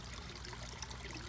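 Water trickles from a small waterfall, with a puppy lounging beneath it: a faint, steady, even splashing with no breaks.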